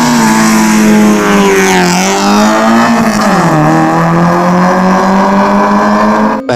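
Loud, raspy Toyota KE70 engine running close up through a straight-pipe exhaust with extractor, holding a steady idle with a brief rev and drop midway.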